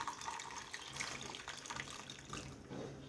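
Homemade ginger cough remedy drink being strained, liquid pouring and splashing steadily and faintly for a few seconds.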